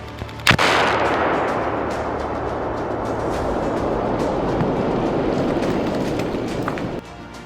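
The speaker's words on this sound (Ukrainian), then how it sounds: "Вибух!" An anti-tank mine is detonated in place with a placed charge: a single sharp, loud blast, followed by a long rumbling roar and debris-like rushing that fades out after several seconds.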